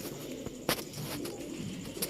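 Silver (chandi) breed pigeons cooing in a low, steady murmur, with a few brief sharper sounds breaking through the continuous background.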